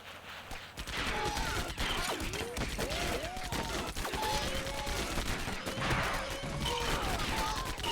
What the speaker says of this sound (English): apparently can't turn while shooting